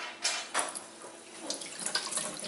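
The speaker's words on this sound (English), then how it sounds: "I'm going to rinse under like cool, warm water" Rice paper spring roll skins rinsed under cool to warm running tap water for Vietnamese shrimp spring rolls, a steady close hiss of the faucet with brief splashy surges as the sheets pass through the stream.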